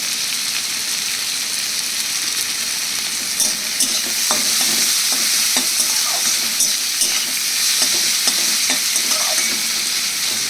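Onion fries with salt and turmeric in a pan for a katla kalia fish curry: a close, loud, steady sizzle runs throughout, with scattered scraping stirs over it and no voices.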